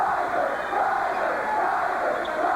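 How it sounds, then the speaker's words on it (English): The home cheering section for Hazleton Area at a high school basketball district championship game roars as a continuous crowd, voices blending into a loud, sustained chant and shout filling the gym. "The cheering section for Hazleton area"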